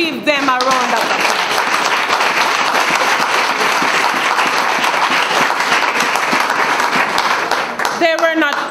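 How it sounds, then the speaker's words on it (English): A congregation applauds at a funeral service, a sustained, loud wash of clapping that fills the room, with a speaker's voice briefly heard at the start and again at the end. "Please give them a round of applause."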